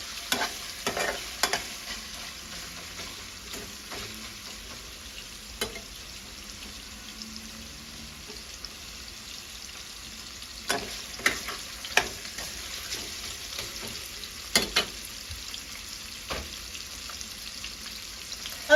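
Pork and cabbage stir-fried in a large basin-like pan, with steady scraping and stirring strokes over a soft, continuous sizzle, with occasional sharper clanks of the utensil against the metal.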